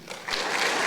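Clapping swells quickly from an audience at a high school scholarship night, building into a dense burst of applause for a recipient over about a second.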